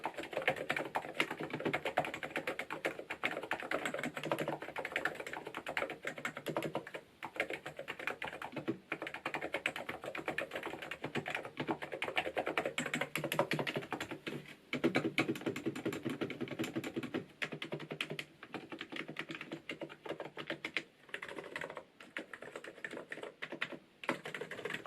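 Steady typing on a Hansung Gtune GK898B full-size 108-key Bluetooth electrostatic capacitive keyboard, a dense run of soft key presses with brief pauses that continues for the whole stretch, close up and quiet, with no voices.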